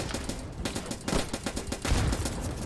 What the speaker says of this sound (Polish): no to fajnie te granaty wybuchają